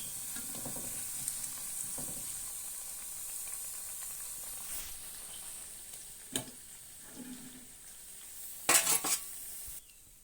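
Drumstick leaf vadas frying in hot oil, a steady soft sizzle and hiss throughout, with a few brief louder crackles and a clink of a utensil near the end.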